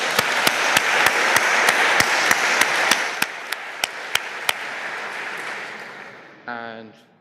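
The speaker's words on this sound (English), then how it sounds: "Once more, round of applause." A crowd at the Levchin Award ceremony applauds in a broad wash of clapping, with sharp, regularly spaced claps standing out before it fades, then a brief voice at the end.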